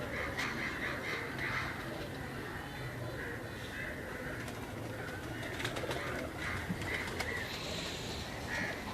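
Pigeons at a pigeon-keeping loft, with steady cooing and flapping amid a dense background of other birds, including crows cawing, continuous and moderately loud throughout.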